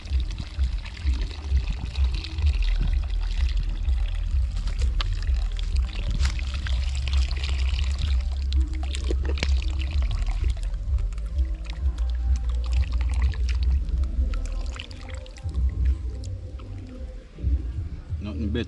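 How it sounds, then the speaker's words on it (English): Coconut milk pours steadily into a pot of rice and peas cooking beside a river, a continuous liquid gurgle running for most of the stretch, mixed with low outdoor rumble before tailing off near the end. "Adding the coconut milk."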